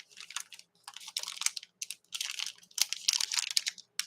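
Quiet, close clatter of fingers typing on a computer keyboard in bursts of rapid keystrokes separated by short pauses, with no talking.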